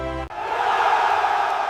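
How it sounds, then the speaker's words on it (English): A crowd at a statue unveiling roars into a sustained, loud wash of cheering and shouting right after a brief tonal note cuts off. Distinct whistles and horns are not clearly picked out. "The crowd erupted before anyone was ready, whistles and horns drowning out the speeches that followed."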